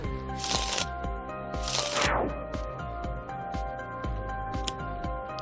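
Deck of cards shuffled during a Sentinels of the Multiverse tabletop card game, two bursts of riffling close up, followed by light ticks and clicks over a faint background hum.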